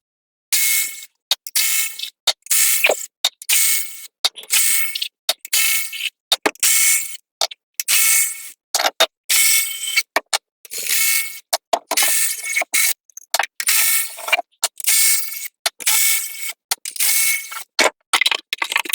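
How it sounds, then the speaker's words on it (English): A hand ratchet loosens 10mm valve cover bolts on a Hyundai/Kia 2.0 Nu engine, with rapid bursts of crisp mechanical clicking repeated in short strokes separated by brief pauses, close and loud, without talk. "So now I'm going to go around and remove the various 10mm bolts to take the valve cover off."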